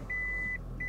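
A Toyota Auris hybrid's reversing parking sensor gives two short, clear electronic beeps, steady in pitch and repeated, over a faint low hum inside the car.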